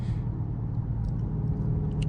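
Dodge Charger Scat Pack with a ZF 8-speed automatic, a deep steady engine rumble heard from inside the car, continuous and muscular.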